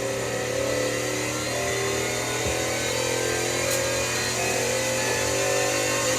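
A Chevrolet Nova's engine drones in Forza Horizon 5, a steady, loud, mid-pitched rumble holding at a fairly constant pitch throughout with no clear rise or fall.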